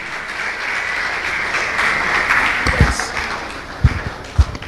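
Audience applause at the Localhost tech conference: a steady wash of clapping from a crowd fills the room, with a few sharp low thumps near the end.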